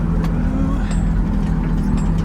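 A car with a welded differential rolls around a property in steady daylight driving, its engine a continuous low rumble close by with faint background noise and no talk.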